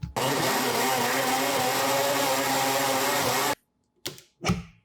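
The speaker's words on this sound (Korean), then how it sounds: "곱게 갈아주세요" A kitchen blender grinding sweet potato stems with water, sugar and sand lance fish sauce, a loud steady motor whir for about three and a half seconds that cuts off abruptly, followed by two brief clunks.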